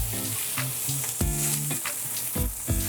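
Aromatics and venison hit a hot pot and sizzle loudly, with repeated scraping stirs punctuating a steady frying hiss; no one speaks.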